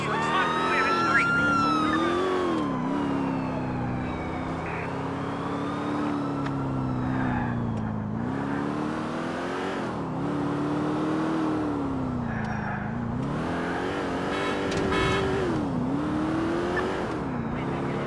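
A police car is driven in GTA IV, its engine revving and droning in repeated rising and falling surges with occasional brighter noisy bursts throughout, and faint speech underneath.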